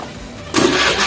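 A Honda Beat scooter engine starts: a quiet lead-in ends in a sudden loud catch, and the engine settles into a steady running hum nearby.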